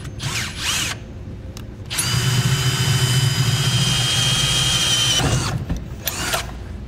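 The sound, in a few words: drilling a hole with a 3/4 inch hole saw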